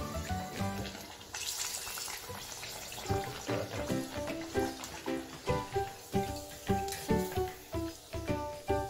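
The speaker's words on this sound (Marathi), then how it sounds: "थोडासा यावरती रंग येईपर्यंत आपल्याला तळून घ्यायचे आहे।" Rava sanjori puris deep-frying in hot oil until coloured, a close bubbling sizzle with rhythmic pulses and splashy bursts from the oil, no voices.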